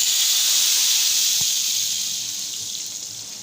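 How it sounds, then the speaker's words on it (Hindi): Finely chopped garlic and cumin seeds frying in hot oil for daal tempering, a loud steady sizzle that slowly fades over a few seconds. "यहाँ पर मैं ऐड कर दूँगी ऑयल में लहसुन बारीक कटा हुआ, जीरा हल्का सा फ्राई होने दूंगी"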